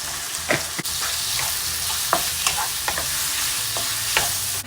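Noodles stir-fried with chicken and prawn in a hot pan, a steady close sizzle broken by repeated scraping and clacking strokes of a spatula at an uneven rhythm, with no voices.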